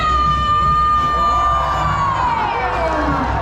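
A loud, dense crowd at a Movie World, Gold Coast, Australia show yells and cheers continuously, with a high whistle-like tone gliding downward through the roar.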